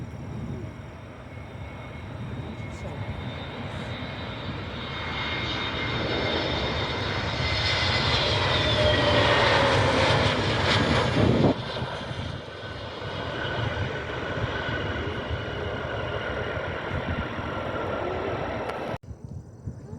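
Aer Lingus airliner inbound from Dublin, engines roaring loud and steady as it passes close at Cleveland Hopkins, swelling to a peak mid-pass then trailing off, with no talk.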